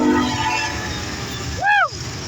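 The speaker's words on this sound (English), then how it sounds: "Fastest train I've probably ever seen on this line." A fast southbound CSX freight train carrying auto racks rushes past on the Henderson line near Springfield, Tennessee, a steady loud rolling rumble topped by a brief rising-and-falling horn blast.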